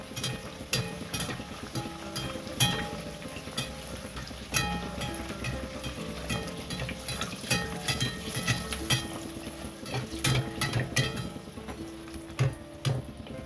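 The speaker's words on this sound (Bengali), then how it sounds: "তারপরে আস্তে আস্তে তেল এর উপরে দিয়ে ভাজতে হবে এইভাবে" Peas-stuffed kochuri frying in a pan of hot oil, a steady dense sizzle with scattered ladle taps and clinks against the pan throughout, fairly close and continuous.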